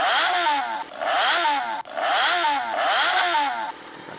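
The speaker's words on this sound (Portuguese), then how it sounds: "Essa quarta moto, 600 cilindradas, é a XJ6N da Yamaha." A simulated Yamaha XJ6N 600cc motorcycle engine in the Moto Acelerador game revs up in repeated bursts, each rising pitch climbing then dropping off, about three loud, close throttle blips in a row.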